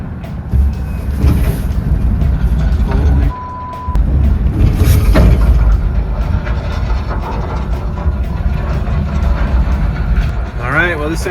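A long-neglected VW SO42 Westfalia bus rolls out of storage for the first time in 30 years, a loud, steady rumbling and clanking movement with a brief beep partway through and a short squeal near the end.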